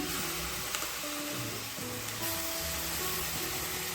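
Tomato fries in a pan for egg sukka with a moderate, steady sizzling hiss, joined now and then by a stirring tap. Faint sustained tones drift in the background.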